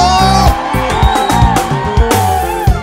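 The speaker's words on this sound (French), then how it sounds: "Est-ce que le canal peut pousser des cris de joie?" A worship-service congregation shouts and cheers for joy, loud and close, with bursts of whoops rising over sustained music and singing.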